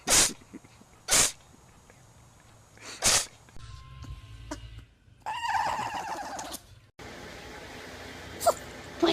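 A pet animal sneezes several times, sharp close bursts spaced a second or two apart, followed by a scuffle of rustling and faint background noise, with no talking.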